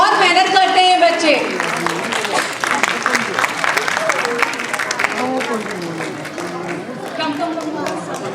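An audience at an academy event claps steadily with cheering and chatter mixed in, the applause fairly loud and close, while voices talk over it throughout.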